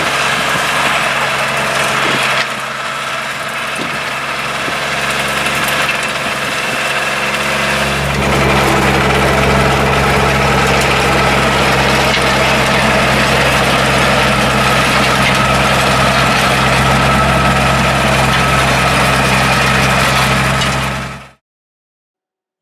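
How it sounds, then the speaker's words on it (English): A tractor engine runs steadily during power harrowing of soil at a nature reserve site, a loud continuous drone that swells heavier partway through and then cuts off abruptly. "A final session of power harrowing was carried out, this time by smart cut, to create a much finer tilth immediately prior to seed sowing."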